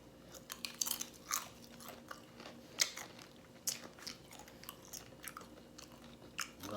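Crunchy Doritos chips are chewed close to the mic in a mukbang, with sharp irregular crunches and bites repeating every second or so over a quiet background.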